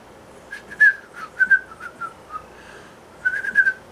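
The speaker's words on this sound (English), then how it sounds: "Where the heck did my whistling go?" A person whistles a short series of bright, high notes in two quick phrases with a pause between them, close and clear over a quiet background, during a Dragon Ball Z Dokkan Battle game session.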